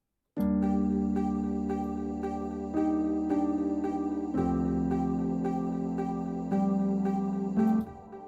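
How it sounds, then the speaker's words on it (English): A sustained synth pad with shimmering echo-drop high notes chiming rhythmically across it in an amapiano track, chords shifting every second or so, steady and fairly loud, no voices. "Echo drops, GM normal echo drops,"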